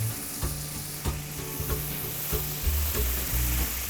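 Lemon juice sizzling in a hot pan as the base for a butter, lemon and anchovy spaghetti sauce, with a steady frying hiss and a few brief stirring knocks throughout, close and fairly loud.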